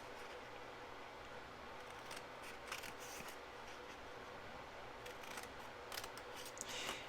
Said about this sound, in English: Then go ahead and cut up on these score lines.